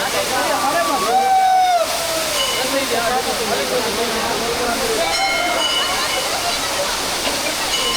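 Nippali Falls in the Western Ghats roars in a steady, broad monsoon rush, loud and unbroken, while voices talk and call out over the top of it.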